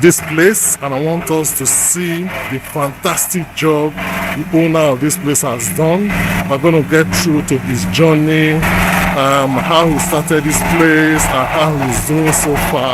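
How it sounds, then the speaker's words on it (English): A generator drones steadily in the background of a street in Agbor town, Delta State, Nigeria, a constant engine hum beneath someone talking throughout. "Apologies for the generator noise."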